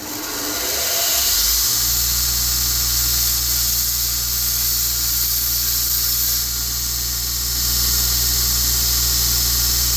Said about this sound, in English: I'm going to go ahead show you how I clean these up on the bench grinder real quick, or on the belt grinder real quick